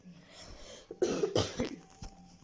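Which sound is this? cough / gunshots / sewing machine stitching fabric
cough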